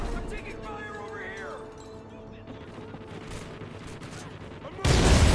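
Gunfire in the video game Call of Duty: Ghosts, a dense fusillade of shots rattling through a busy battlefield mix with a voice talking over it, ending in a loud, sustained burst of fire.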